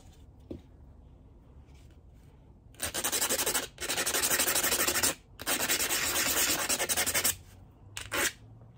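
The end of a mosaic bee body is sanded down with a rasping rub, in three sustained, fairly loud stretches separated by short pauses, with faint scratches before and after.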